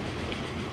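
Trains in Train Fever roll along rails with a dense, steady rumble and hiss, heard in a very short, fairly quiet burst with no voices.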